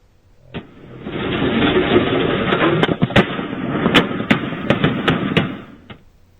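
Gunshots ring out during a police officer-involved shooting in Jacksonville, a string of sharp, loud cracks over a rumbling engine-like din, with several rapid shots clustered together near the end.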